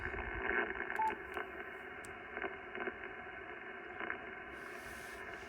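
Hiss and crackling band noise from a Yaesu FT-710 amateur radio receiver with its noise blanker engaged, a steady wash with faint tonal carriers and brief bursts of impulse static, heard alone.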